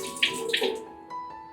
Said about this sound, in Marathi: ते चिकन मस्त धुवून घेतलं आहे.